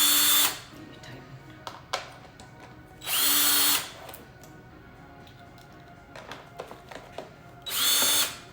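A power drill whirs in three short bursts while tightening screws on a Tesla Model S door handle, with small clicks and ticks of handling between the runs, close and loud.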